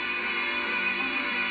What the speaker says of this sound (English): There's a rear jack for an external speaker, which makes it sound like this.